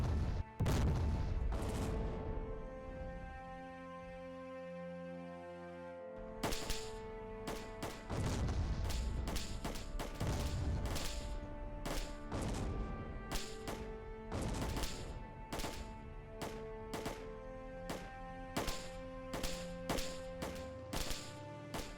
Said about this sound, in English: The infantry here are firing at a reduced rate, while the Puma is at the maximum rate.